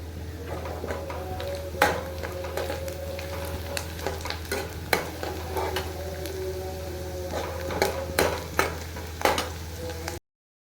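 Tadka tempering for mung and masoor dal sizzles steadily in a pan at close range, with repeated stirring clicks and scrapes over an even frying hiss.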